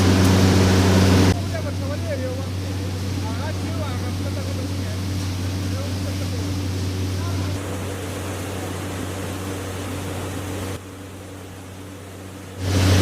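A pine nut sorting and grading machine runs in a factory, a steady low mechanical hum and drone that shifts level a few times, with a voice talking over it.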